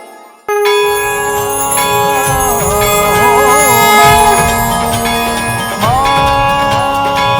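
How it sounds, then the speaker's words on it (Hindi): Temple bell struck once after a brief quiet start, ringing loud with a long shimmering metallic sustain; a second strike near the end refreshes the ringing tone, with no voices heard. "आपके इस घंटे की ध्वनि से संपूर्ण वातावरण में एक अलग सी ऊर्जा उत्पन्न हो गई है।"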